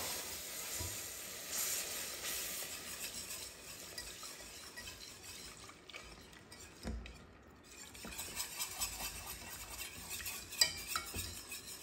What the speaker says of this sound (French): il suffit de bien remuer en même temps qu'on verse le lait froid